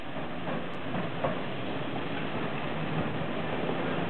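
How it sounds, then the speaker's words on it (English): Heritage tram pulling away at the Crich tramway in Matlock, a steady broadband rumble of wheels on rail that holds for the whole stretch with no talk over it. "That's the tram that we just come back on, and it's going out again now."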